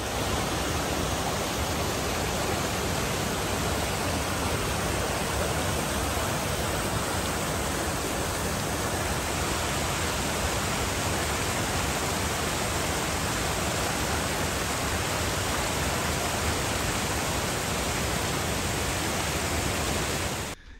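A waterfall at Serra do Tepequém in the Amazon rushes in a dense, constant roar of falling water, loud and unbroken throughout, with no voices.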